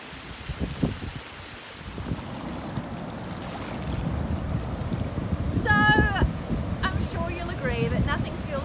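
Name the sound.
ocean waves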